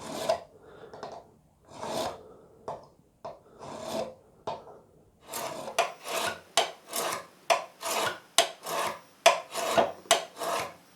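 A card scraper clamped in a vise is burnished to turn the burr, giving repeated rasping strokes that speed up into a quick, even rhythm in the second half, close and clear.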